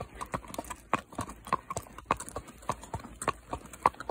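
Horses walk along a mountain trail on a relaxed ride, their hooves clip-clopping in a steady, uneven rhythm close by. Faint background noise sits underneath and no one speaks.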